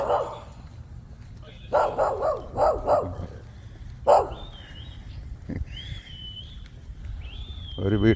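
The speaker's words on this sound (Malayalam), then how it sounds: "ഒരു വീട്ടിലെ വളർത്തുപട്ടി കുരയ്ക്കുന്ന ശബ്ദമാണ് കേട്ടത്." A pet dog at a house barks in short bursts, a few close sharp barks with gaps between, over quiet outdoor background with faint tones.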